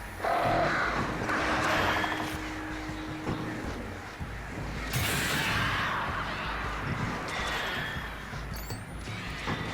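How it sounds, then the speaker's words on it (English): Crows caw in the Alan Wake video game, a flock calling repeatedly over a busy, loud backdrop of game noise and whooshing effects, with a brief tonal hum early on. "These birds are just annoying more than anything."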